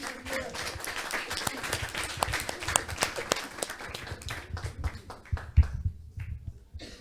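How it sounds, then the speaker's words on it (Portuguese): Audience at a live Portuguese comedy show bursts into applause, steady scattered clapping for several seconds that gradually thins and fades out. "Uma salva de palmas para..."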